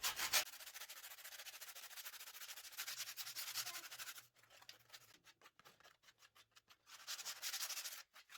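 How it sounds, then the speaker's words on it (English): Hand sanding with 220 grit sandpaper along the edges of a wooden table, heard as steady close scratchy rubbing strokes that stop briefly and then resume in shorter bursts. "I'm going to use a 220 grit sandpaper to knock down the big burrs"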